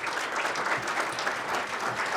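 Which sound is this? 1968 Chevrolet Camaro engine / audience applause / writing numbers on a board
audience applause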